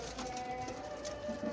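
Pigeons in a home loft, some sitting on eggs, coo faintly in the background beneath a steady low hum and room noise.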